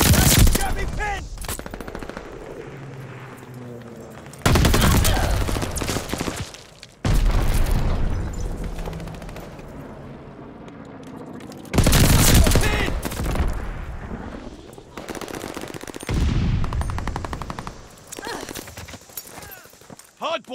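Gunfire bursts in Call of Duty: Vanguard Hardpoint multiplayer on PlayStation 5, loud volleys cutting in repeatedly between quieter stretches, with in-game announcer voice lines in between.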